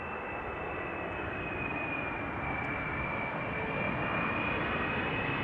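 A Delta Air Lines Airbus A330-300 arriving from Detroit at Amsterdam Schiphol produces a steady, loud broadband jet roar with a faint high whine, holding constant and close throughout without pause.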